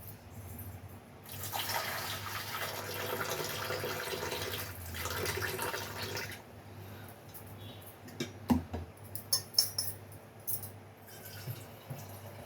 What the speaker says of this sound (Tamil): இப்போ இது வந்து அப்படியே நம்ம மேலோட தண்ணி கீழே ஊற்றிட வேண்டியது தான்.